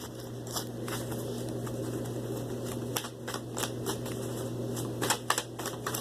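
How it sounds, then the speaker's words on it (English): Tarot cards being shuffled, a string of soft papery riffles and taps in irregular bursts over a steady background hum, close and fairly quiet, with no speech. "I'm going to shuffle again because nothing's coming out."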